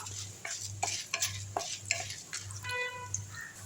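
Pepper, cumin, urad dal, chana dal and dried red chillies roast in oil in a pan, with soft crackling and repeated scraping stir strokes against a steady low hum; no one speaks.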